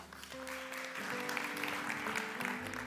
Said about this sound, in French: On applaudit Paul.